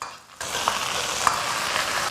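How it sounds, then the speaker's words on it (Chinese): Chopped chili hits moderately warm rapeseed oil after a brief quiet moment, bursting into a steady close sizzle with a couple of small metallic taps from stirring. "3成油温下入剁椒"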